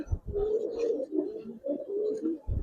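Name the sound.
pigeons cooing at a loft in Old Dhaka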